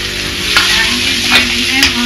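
Ginger, garlic, chilli and onion paste sizzles steadily in a hot pan with tomato, with a few louder stirring scrapes breaking up the continuous frying hiss.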